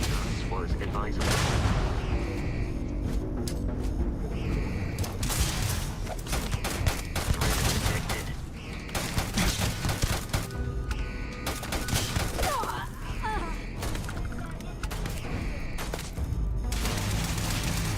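Video game gunfire, dense bursts of rapid shots and booms volleying throughout, loud and continuous, with speech mixed in.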